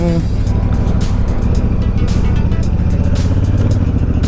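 Motorcycle ride captured by a GoPro microphone mounted on a rider's helmet, with steady engine drone and heavy wind rush throughout, loud and close, with no talk.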